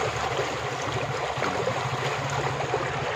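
Strong water rushes steadily through an old Dutch-era irrigation channel that feeds rice fields, a continuous dense churning roar close by with no voices.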